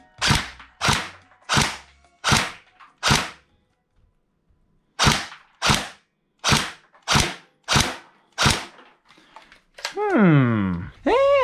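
An AK Storm airsoft rifle fires semi-auto at a target, sharp snappy shots in two quick strings of five and seven with short gaps, then a voice speaks near the end.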